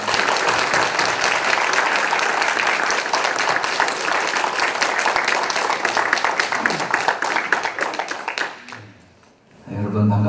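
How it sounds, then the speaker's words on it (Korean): Church congregation at a revival meeting applauds loudly to welcome Pastor Michael to the pulpit, dense steady clapping for about eight seconds that thins and fades out near the end. "우리 나오실 때 박수로 환영하겠습니다."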